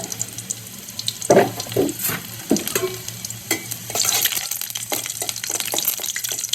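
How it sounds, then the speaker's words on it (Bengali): Garlic frying in oil in a home kitchen, with soft sizzling and scattered clinks and scrapes of a utensil against the pan, close and irregular, no voices. "প্রথমে তেলের মধ্যে রসুন ছেড়ে দেওয়া হয়েছে"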